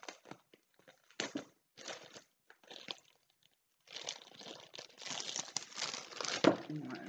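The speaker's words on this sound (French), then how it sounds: "petit sac plastique pour protéger la toile" A small protective plastic bag around a canvas is crinkled during an unboxing, giving close, intermittent rustling bursts that grow denser and more continuous toward the end.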